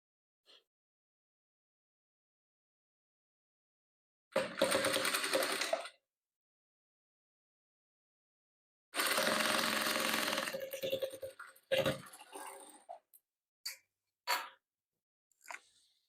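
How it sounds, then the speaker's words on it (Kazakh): Sewing machine stitching quilt patchwork pieces, a short motor burst, a longer whirring run after a pause, then several brief stops and starts, close but fairly quiet in an otherwise silent room. "Енді осыны осылай тігеміз."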